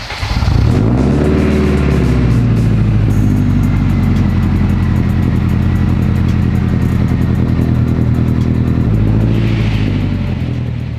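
Modified all-wheel-drive Honda Civic Type R driving and revving, its engine loud and close with rising and falling pitch, a steady drone of acceleration and intermittent mechanical clatter throughout.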